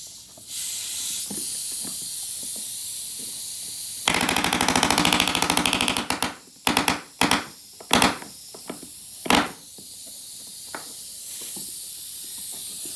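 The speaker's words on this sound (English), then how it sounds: "use the pneumatic palm nailer. It's handy for getting into tight places." Pneumatic palm nailer driving nails into a small wooden board, a rapid machine-gun-like hammering burst followed by several sharp separate bursts and air hisses, loud and close over a steady background hiss.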